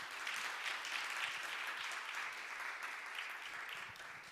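A church congregation at a youth retreat applauding, a dense, steady round of clapping from a crowd in a hall that fades slightly toward the end.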